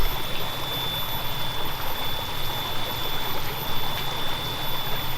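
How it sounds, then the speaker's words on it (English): Steady broadband rushing of a creek flowing strongly after heavy rain, a continuous wash with no pauses, fairly close and moderately loud. "the creek is flowing"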